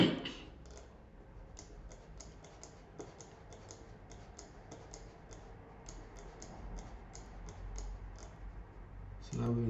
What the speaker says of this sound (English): click on the chart, auto scroll